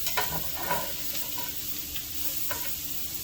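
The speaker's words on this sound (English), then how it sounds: "So I'm just going to stir this and let it go for a little bit" Thinly sliced vegetables sizzle in a pan while being stirred, a quiet steady frying hiss with a few soft scraping and clattering touches early on, near and without talk.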